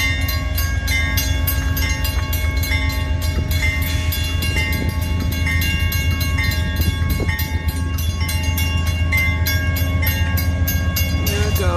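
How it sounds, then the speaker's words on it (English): An Amtrak passenger train passes near Windsor, a loud steady rumble of rail cars with rhythmic clickety-clack and a faint horn tone, filling the whole clip without a break. "Anyway, it's a train."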